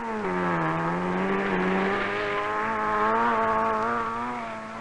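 Hillman Imp rally cars compete on Scottish Highland tracks in a five-day rally, one engine droning loudly and steadily nearby, its pitch rising and falling gently as it revs through the run without pause.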